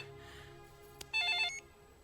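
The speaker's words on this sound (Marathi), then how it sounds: "म्हणजे फोन आलाय का काय?" A telephone rings indoors in a short electronic burst of warbling tones, fairly faint and heard once against a quiet room background.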